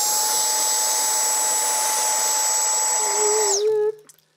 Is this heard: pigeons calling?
no